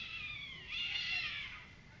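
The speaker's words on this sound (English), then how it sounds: "My cat is dying." A cat lets out one long, drawn-out meow that rises and wavers before fading slowly. It sounds fairly close and stands alone over a quiet, faintly noisy background with no talking.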